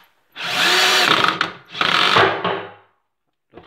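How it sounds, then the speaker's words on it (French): Power drill driving screws into a wooden wardrobe being assembled, two sustained loud whirring bursts of about a second each separated by a short pause, then a brief start of a third at the end. "je vais juste changer d'embout pour pouvoir visser et je vous reprends"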